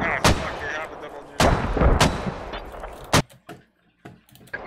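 Gunfire in the tactical shooter SQUAD: four loud, sharp shots spaced irregularly, each trailing into a rumbling echo, followed by quieter distant pops and clicks.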